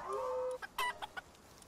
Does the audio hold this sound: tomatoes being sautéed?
no